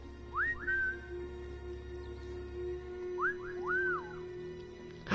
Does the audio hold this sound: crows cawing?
no